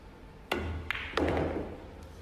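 Pool balls clack in a professional 8-ball match as a shot is played off an extra rail, three sharp strikes over a couple of seconds against quiet hall ambience.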